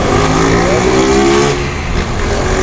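A motorcycle engine revs loud and close, its pitch climbing and then shifting as the rider changes gear, the strained note holding steady throughout with no pause.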